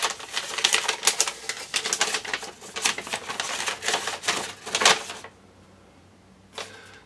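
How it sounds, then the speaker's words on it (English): A small paper envelope being torn open and handled, with rapid crisp rustling and tearing bursts for several seconds, then a pause and one last crinkle. "So let me open up this little envelope for my flyer program."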